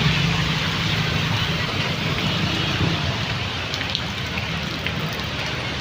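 Heavy rain pours outdoors amid flooding, making a loud, dense, unbroken hiss and patter that stays steady from start to end.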